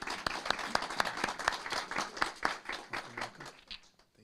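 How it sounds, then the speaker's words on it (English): A city council meeting audience gives a short round of applause: scattered, distinct hand claps from a modest crowd, rhythmic and fairly close, thinning out and fading over about four seconds. "And if we could give her a big round of applause."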